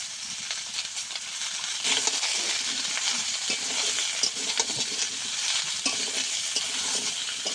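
Potato and bottle gourd with ginger paste frying in a pan, a steady close sizzle with frequent spatula stirs and scrapes throughout.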